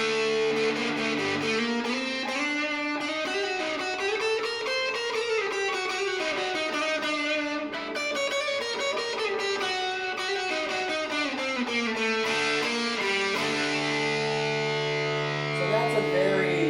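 Distorted electric guitar through a Boss TB-2W Tone Bender fuzz pedal plays sustained, buzzy chords and sliding notes, thick and saturated, continuing without pause.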